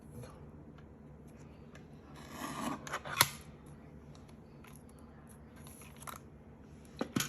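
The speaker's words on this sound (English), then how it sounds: "I'll just want to cut the end off." A faint, brief snip of scissors cuts the end off a strip of paper during a papercraft project, with a couple of soft rustles and clicks in a quiet room.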